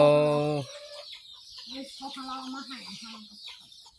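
Chickens cluck in a rural yard, opening with a short, drawn-out call and then breaking into scattered clucks at moderate distance.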